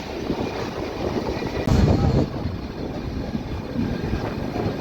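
The Nilgiri toy train rolls toward Coonoor, giving a steady low rumble of wheels and carriages heard from on board, with a brief louder clatter partway through.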